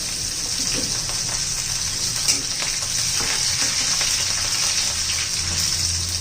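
Curry leaves sizzling in hot oil with green chillies and garlic, a dense, even frying hiss close to the pan with faint scattered crackles and a single soft knock, no voices.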